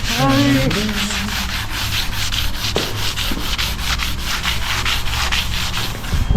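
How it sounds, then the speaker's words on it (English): Continuous abrasive sanding, a loud steady scratchy rubbing against a narrowboat hull in dry dock with a faint hum underneath, no voices. "Everybody loves sanding"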